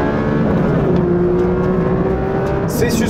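Porsche 911 S/T sports car engine droning steadily from inside the cabin while driving on the road, a continuous mid-pitched hum with a faint tonal whine, no talk.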